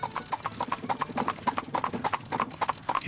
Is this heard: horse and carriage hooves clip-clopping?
yes